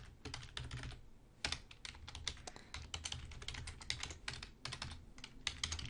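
Typing on a computer keyboard: quick bursts of close, crisp key clicks with brief pauses between runs, fairly quiet overall.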